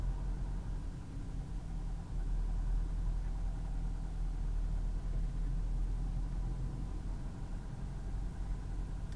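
A car engine runs steadily after a shift into second gear, a low, even rumble at moderate level that holds for several seconds with no voices.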